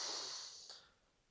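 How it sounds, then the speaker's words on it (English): A long, hissing breath drawn or released through one nostril during alternate nostril breathing practice, steady at first and then tapering away into quiet, close and alone. "We're going to move on to our alternate nostril breathing now."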